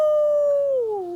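A cartoon rabbit character howls in imitation of wolves, one long, clear, sustained howl that slowly slides downward in pitch, close and loud with no talk over it.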